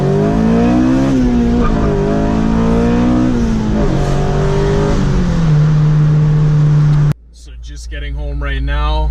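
A Honda Civic FG2 with a K20 engine revs hard into VTEC, a loud, rising mechanical howl with several climbing pulls, cut off near the end by a person speaking.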